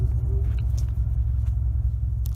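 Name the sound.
2018 Cadillac ATS 2.0 AWD turbo engine idling at raceway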